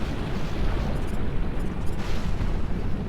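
Missiles striking and exploding in the mech strategy game Phantom Brigade, producing a continuous deep rumbling roar of blasts that stays heavy and dense throughout, with no voices.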